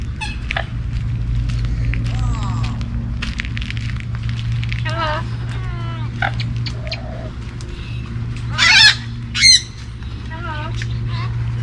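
Birds squawk and honk in scattered calls over a steady low hum in Everglades National Park, with two louder, sharper honks near the end.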